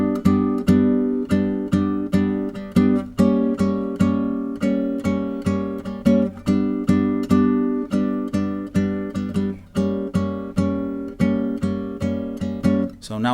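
A Cordoba nylon-string guitar plays a steady bossa nova pattern, close and clear, with repeated plucked chord attacks over a bass line in an even syncopated rhythm throughout, no voices.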